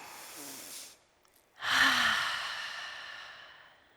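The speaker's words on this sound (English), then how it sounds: "we're going to just take 2 more breaths together" A conference audience in an auditorium at Devoxx Poland 2022 breathes deeply together: a soft inhale, a brief pause, then a loud, long collective exhale that slowly fades.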